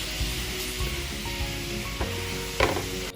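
Teriyaki chicken cooking in sauce in a pan, heard as a constant close sizzle and bubbling with a few stirring or scraping knocks, no speech.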